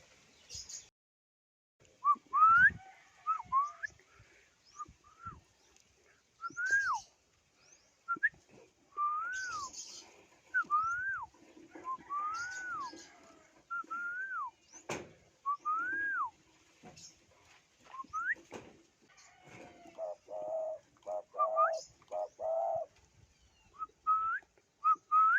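Pet doves (tukmo) cooing and whistling in repeated soft rising calls, spread irregularly over a quiet background with some faint rustling and clicks; one dove has an injured claw.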